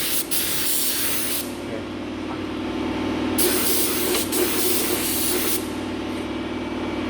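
A spray gun hisses loudly in two long bursts with a short gap between, coating a Mitsubishi Triton ute, over a steady compressor-like hum in an echoing space.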